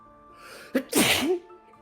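A single sharp sneeze bursts out close and loud, preceded by a quick inhaled catch, with quiet room tone before and after.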